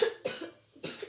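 Two harsh coughs come close and loud, one near the start and one near the end, with a brief quieter cough or breath between them.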